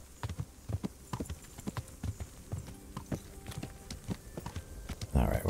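Horse hooves clip-clop in a steady walking rhythm in the medieval video game Kingdom Come: Deliverance, fairly close and clear. A louder burst of sound comes at the very end.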